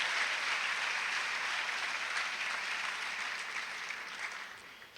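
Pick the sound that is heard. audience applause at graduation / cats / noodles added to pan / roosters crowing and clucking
audience applause at graduation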